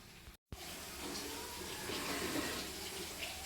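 Water is poured into a pan of fried ingredients for upma, a steady close splashing rush after a very brief cutout at the start, with no voices.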